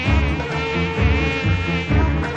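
Flies buzz loudly and close in a Telugu comedy scene, a dense droning hum that swells and dips in a few pulses throughout, with no talk.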